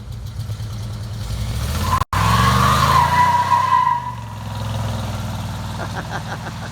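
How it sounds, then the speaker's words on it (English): A teenager's first-ever burnout in a square-body truck fitted with a new 700R4 torque converter: a loud, steady engine roar with tire squeal building over several seconds, broken by a brief dropout, then easing off. "he's going to attempt his first burnout ever with his new converter"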